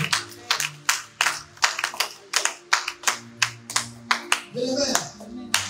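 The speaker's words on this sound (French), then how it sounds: "Si tu crois, acclamez très fort" Rhythmic clapping from a church congregation, loud, close and steady, with beats in regular time and a voice rising briefly near the end.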